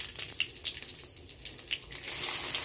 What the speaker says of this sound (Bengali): তেল গরম হয়ে গেছে। হিং, তেজপাতা, শুকনো লঙ্কা আর গোটা জিরে ফোড়ন